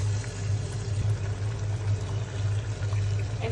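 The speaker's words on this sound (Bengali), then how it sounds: "আমি আরেকটু পানি দেবো।" Water is poured into a cooking pan of spicy dried fish bhuna, a steady low rushing pour with a faint hiss that runs unbroken for a few seconds, close and moderately loud.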